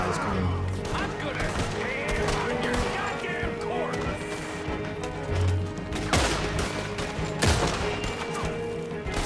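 Gunfire in Red Dead Redemption 2, with repeated sharp shots and bursts at irregular intervals, some loud and near, others more distant, mixed with game sound and someone talking over it.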